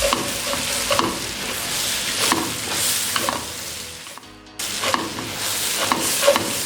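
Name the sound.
roasting spice powders in a pan for mutton gravy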